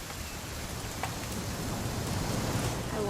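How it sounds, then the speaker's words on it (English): Steady rain falling in the video game What Remains of Edith Finch, a continuous soft hiss of drops with faint patter, even and unbroken throughout. "It's gonna rain the whole weekend,"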